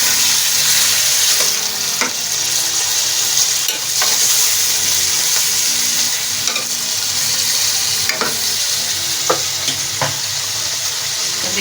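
Tomatoes sizzle loudly in a karahi over a high gas flame, a dense, steady frying hiss broken now and then by sharp stirring scrapes and clatters, with no talking.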